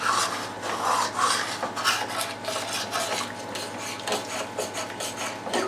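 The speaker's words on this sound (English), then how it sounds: "I'm going to scrape everything off the bottom of the frying pan." Metal utensil scraping and rasping across the bottom of a frying pan holding chicken gravy, close and steady, with repeated strokes over several seconds and no talking.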